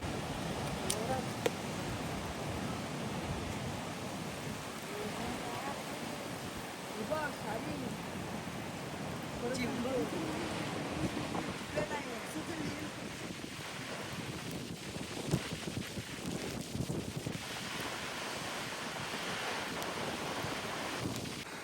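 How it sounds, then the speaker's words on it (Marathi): Strong wind buffets the microphone over a steady roar of high waves crashing, loud and continuous throughout, with faint muffled voices at moments. "त्या लाटा आहेत ना असल्या उंच उंच आदळत आहेत"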